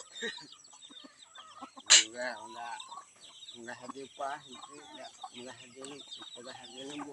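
Hens cluck and murmur in short bursts under ongoing human talk, with one sharp louder call standing out briefly near the start.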